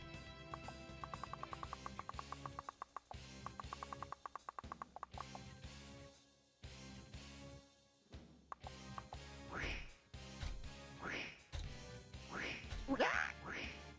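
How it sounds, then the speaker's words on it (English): A video game character lets out duck-like quacks over busy game music, several nasal squawks bunched toward the end, loud and up front. "it's just a guy going quack."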